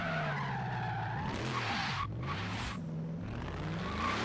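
Car tires slide and squeal through a drift in Forza Horizon 3, a steady loud screech over a revving engine whose pitch rises and falls with gear changes, no talking.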